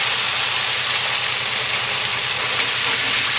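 Onions, anchovy and celery sautéing in a pan for Sicilian caponata, a loud, dense, continuous sizzle with an even hiss throughout and no talking.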